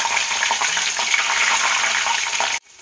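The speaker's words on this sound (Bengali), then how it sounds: "তেলটা গরম হয়ে গেছে, এবারে আমি দেব কালো জিরে আর 2-3টে কাঁচা লঙ্কা।" Nigella seeds and green chillies sizzling loudly in hot oil in a pan, a dense close crackling hiss that runs steadily for over two seconds and then cuts off abruptly.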